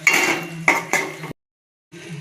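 A spoon stirs boiled eggs and fried onions into egg biryani gravy in a cooking pot, making a few close metallic clinks and scrapes, then a brief silence before the stirring resumes.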